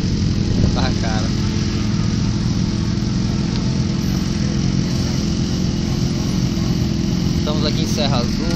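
A Suzuki Bandit 650N motorcycle idles steadily and loudly up close in a busy gathering of many motorcycles at Serra Azul, with a continuous engine drone and people talking over it.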